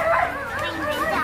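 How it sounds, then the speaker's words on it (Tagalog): A dog at a Filipino children's party gives short yelping, whimpering barks, mixed with excited voices of people nearby. "Uy, nakawala yung aso, nakawala yung aso."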